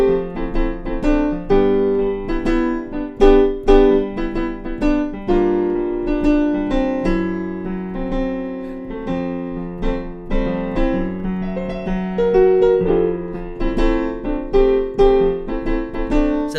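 Solo piano played in a swing feel, chords and melody bouncing with an uneven long-short lilt, steady and clear at moderate loudness, with no talking over it.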